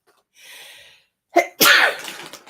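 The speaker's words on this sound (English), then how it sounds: "I feel like I have to sneeze" A single sneeze, preceded by a soft breath and a sharp inhale, then a loud burst that trails off.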